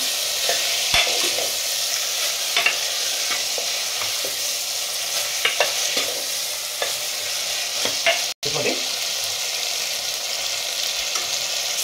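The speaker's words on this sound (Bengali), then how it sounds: "এবারে আমি ছোলাটা দিয়ে দিচ্ছি। ভালো করে মশলার সঙ্গে কষিয়ে নিচ্ছি।" Chickpeas being sautéed with spices in a pan for Punjabi chole masala: a steady loud sizzle with repeated scraping strokes of a spoon stirring, continuous and close, with a brief dropout near the end.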